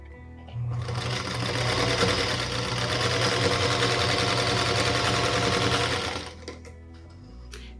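A sewing machine runs in one long, loud, steady burst lasting several seconds, stitching pieces of a combination star quilt block, then stops and leaves a quiet hum. No voices are heard.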